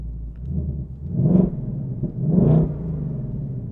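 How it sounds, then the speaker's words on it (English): The engine of a 2024 Ford Mustang Dark Horse in drag strip mode is revved twice over a low idle rumble, each blip rising and falling cleanly, close and loud. "And then I'll rev it a little bit."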